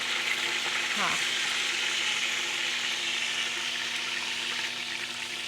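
Pieces of gosht (meat) frying in a pan give a steady, loud, close sizzle and crackle throughout, with one brief spoken word near the start.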